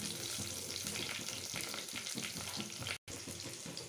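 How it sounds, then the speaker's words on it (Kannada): Byadgi red chillies and spices fry on low flame in a hot clay pot, giving a steady, close sizzle with stirring scrapes throughout and a brief cut near the end. "ನೋಡಿರಿ ಈ ಥರ ಸ್ವಲ್ಪ ಫ್ರೈ ಆಗೋವರೆಗೂ ಫ್ರೈ ಮಾಡ್ಕೊಳ್ರಿ"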